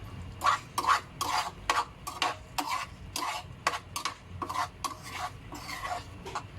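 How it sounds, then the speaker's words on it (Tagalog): Sardines and egg are stirred in a pan with a utensil, making repeated scraping, clinking strokes in an uneven rhythm, close and fairly quiet, over a faint sizzle. "Tapos haluin lang natin."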